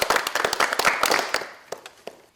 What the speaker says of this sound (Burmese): လက်ခုပ်တီးပြီးတော့ချီးမွမ်းလိုက်ကြပါဦး